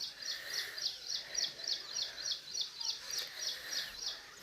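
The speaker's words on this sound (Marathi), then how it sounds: "ते बघा ते पक्ष्यांचा आवाज येतो इकडून तिकडून" Birds call repeatedly around a rooftop terrace with many trees in the morning, a rhythmic series of chirps coming in regular bursts, moderately distant and fairly faint, with no talking.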